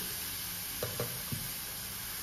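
Olive chutney sizzling in a pan just after water is added, a faint steady hiss with two or three soft stirring scrapes, close and quiet, without speech.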